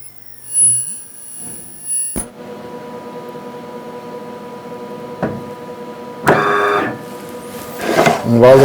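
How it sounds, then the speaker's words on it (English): SharperTek ultrasonic plastic welder running a three-second weld: sharp clicks, then a steady electronic whine with a constant hum, then brief louder buzzing bursts as the horn engages the plastic. "initiate the weld."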